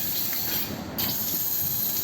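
An EDM machine sparks while it runs, giving a continuous bright hiss with faint crackle that dips briefly midway and then resumes at the same level.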